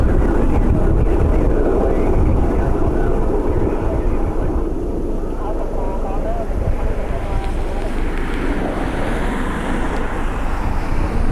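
A Falcon business jet departing makes a loud, continuous roar mixed with heavy wind buffeting on the microphone, filling the whole stretch and slowly shifting in tone as it climbs away.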